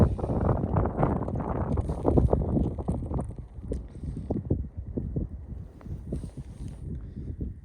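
Gusty wind buffets the microphone out on a frozen river during winter ice fishing for zander, loud bursts at first and then easing into weaker, uneven gusts.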